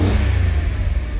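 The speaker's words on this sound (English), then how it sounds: "it runs, it revs" A 3.4-litre turbocharged VR6 engine in an Audi TT revs hard, a loud, close, continuous roar with a throbbing low rumble and no talk.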